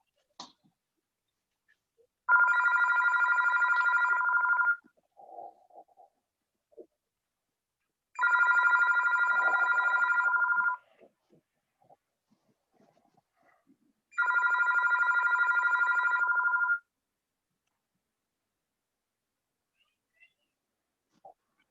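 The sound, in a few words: house telephone ringing before answering machine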